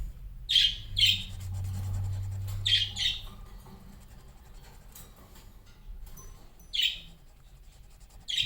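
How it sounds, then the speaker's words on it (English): Small pet birds in a cage chirp in quick bursts of high, bright tweets, a few calls at a time with short pauses between, fairly close by. "right above my head is those little guys chirping away."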